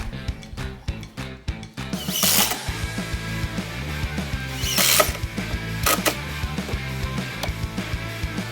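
Screws being driven into workbench legs with a power tool, a series of rapid whirring and ratcheting bursts with sharp clicks and a few louder spikes, close and alone.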